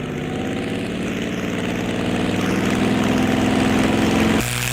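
A Curtiss P-40E Warhawk's propeller engine throttles up for takeoff on the runway, a loud, close, steadily building roar with pulsing harmonics that rises in pitch before cutting back near the end.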